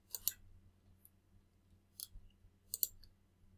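Mouse clicks while signing in to Microsoft Teams on a computer: a few short, sharp clicks, some in quick pairs, spaced apart against near silence.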